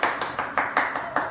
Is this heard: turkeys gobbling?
no